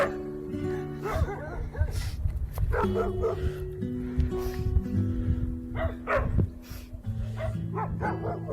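A Jindo dog named Cream barks and yips repeatedly in rescue footage, sharp close barks in irregular bursts with whimpering between them.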